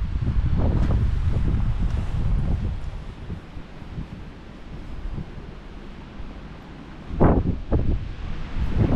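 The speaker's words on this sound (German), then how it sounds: "Es war einfach viel zu viel Wind." Strong wind buffets the microphone on a coast in Denmark, a steady roaring rush with louder gusts near the start and again toward the end.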